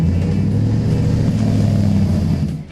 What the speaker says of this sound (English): Xtreme Street actually put a true dual exhaust on this truck.